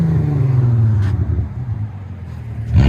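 A 2001 VW Jetta VR6 with a 2.8L V6 and an aftermarket muffler rumbles loudly up close, the exhaust note holding steady before easing off, then surging again at the end.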